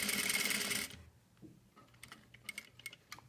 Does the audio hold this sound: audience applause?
no